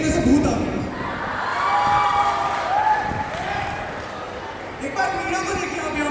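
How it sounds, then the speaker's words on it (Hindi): Audience at a college freshers' party clapping and cheering loudly, a dense sustained wash of applause and crowd noise with shouts and a talking voice mixed in throughout. "देखिए कितने जोर से तालियां बजा रहे हैं"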